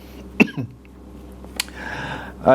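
A short cough up close, followed by a second cough a couple of seconds later, over a quiet background hum.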